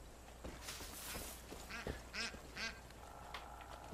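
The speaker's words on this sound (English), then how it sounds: "Did I step on a duck or something?" A duck in Far Cry 5 quacks several times in a row, clear repeated nasal calls standing out over steady outdoor game ambience with no talking.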